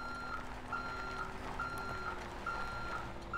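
Steady electronic reversing beeps from a GMC bus backing up in GTA 5, a regular series of high, clear pulses about two per second over a low engine hum.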